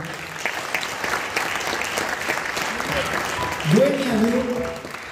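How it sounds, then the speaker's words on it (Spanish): An audience applauds at a live radio and television show, a broad, even wash of many hands clapping throughout. A voice starts speaking or singing over it near the end. "quiero que den un fuerte aplauso"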